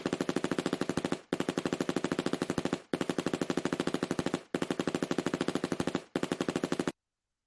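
Sustained machine-gun-style bursts of rapid gunshots, used as a sound effect in a diss track, arrive in five long volleys separated by brief gaps. The firing is loud and close, with no talking.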